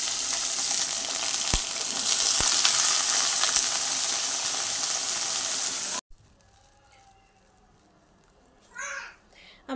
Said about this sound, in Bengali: তেলে আমি কিন্তু কালো জিরে আর শুকনো লঙ্কা ফোড়ন দিয়ে দিয়েছি।